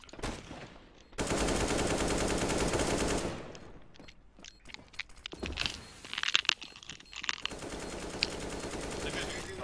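Gunfire in Counter-Strike on the Train map: loud sustained automatic bursts, then a quieter scattered stretch of shots and clatter, then another long dense volley near the end.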